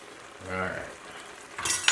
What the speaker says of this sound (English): Trusty wooden spoon. We are going to stir that in.